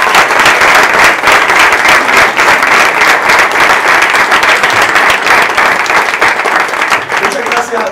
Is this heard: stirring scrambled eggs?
no